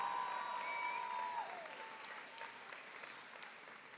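A gathering applauds school baseball and cheerleading champions, with faint, distant clapping spread across the whole stretch and a thin tone fading near the start.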